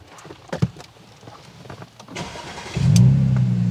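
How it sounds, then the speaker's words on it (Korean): A tuned 2012 Audi S5 3.0 TFSI quattro with a modified exhaust cranks with a few clicks and starter whirs, then fires up into a loud, deep, rumbling idle close by. "제가 한번 시동 한번 걸어 볼게요."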